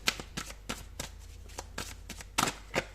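Tarot cards being shuffled by hand, a quick series of soft riffling bursts in uneven rhythm, close and fairly quiet, with no talk.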